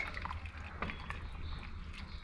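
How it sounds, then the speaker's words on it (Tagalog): Water poured into a cooking pot of quinoa, splashing and dribbling in uneven bursts with a few drips, close up in a home kitchen. "Kailangan pa natin lagyan ng tubig kasi mag-pop siya."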